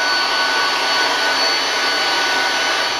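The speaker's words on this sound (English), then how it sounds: "And take your hair dryer" A hair dryer blows steadily at close range while drying cleaned longboard skateboard bearing parts, a loud, even whooshing roar with a faint whine and no pauses or talk.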